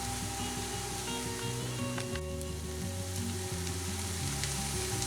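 An egg frying in a pan for vegetable egg fried rice, a soft continuous sizzle and hiss heard close, with a low background hum and no talking.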